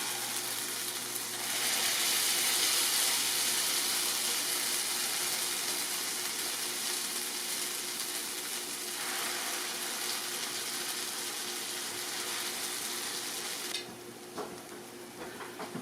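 Hot water cornbread frying in oil in a cast iron skillet gives a steady, close, broadband sizzle that runs continuously, easing slightly toward the end, with no talking.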